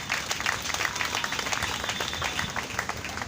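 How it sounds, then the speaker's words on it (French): A church congregation applauds in acclamation of Jesus Christ as king of kings, producing dense, steady clapping from a crowd that fills the whole moment at moderate loudness. "Est-ce qu'on peut acclamer pour le roi des rois?"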